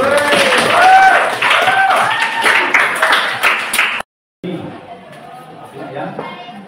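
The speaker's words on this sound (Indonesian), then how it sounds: "Tepuk tangannya." Classroom audience clapping in a lesson, a run of fairly close, rhythmic claps with voices over them, then a sudden cut to quieter chatter.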